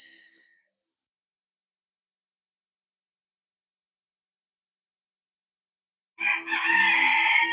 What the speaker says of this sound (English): I used to always think that cockerels only cockadoodle first thing in the morning